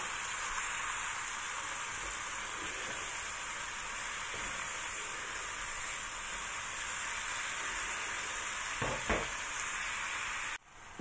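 Sliced carrot and king oyster mushroom frying in a hot pan, a steady loud sizzle throughout with a few brief stirring knocks near the end.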